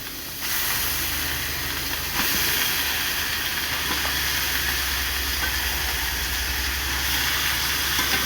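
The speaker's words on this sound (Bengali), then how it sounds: "এখন আমরা মাংসটার মধ্যে দিয়ে দেবো।" Goat meat tipped into a pan of fried onion, garlic and ginger sets off a loud, steady sizzling hiss that surges as the pieces land and stays constant throughout.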